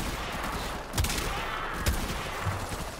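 Weapon fire in the Warframe shooter game: a steady hissing barrage punctuated by three sharp, loud shots about a second apart, with no voices.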